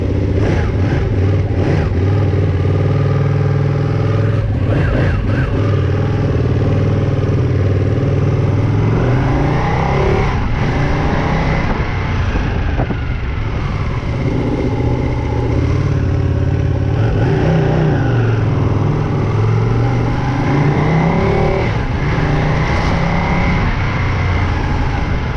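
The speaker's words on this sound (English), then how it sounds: "You cannot beat that V-twin noise." Ducati Panigale 959 V-twin motorcycle on a test ride after a chain and sprocket install, its engine loud and close, rising and falling through repeated revving and acceleration runs with a throaty, continuous roar and no pauses.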